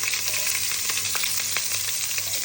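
Chopped small onions fry in a hot pan with a steady, close sizzle that hisses on without pause, with faint stirring scrapes now and then.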